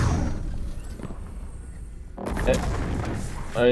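A Void Warlock in Destiny 2 throws a Nova Bomb: a heavy boom thumps out amid gunfire-like game effects, followed by a sharp burst of crackling impact, with a voice talking over it.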